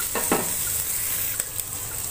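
Bay leaves, cinnamon and black pepper fry in a pan with a steady close sizzle, broken by a few brief stirring scrapes and a light clink near the end.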